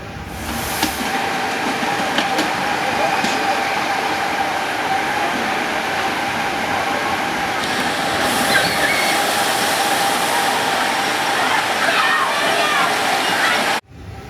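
Double splash flume water ride at a family theme park in Pennsylvania, heard as steady rushing, sloshing water and rumbling boat travel throughout, loud and continuous before cutting off abruptly near the end.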